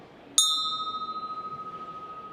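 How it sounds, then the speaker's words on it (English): A single timer chime marking the one-minute point of a startup pitch presentation at a demo show, one clear bright ding that rings on and slowly decays with a gentle wavering shimmer, alone in a quiet room. "there will be one chime at the 1 minute mark"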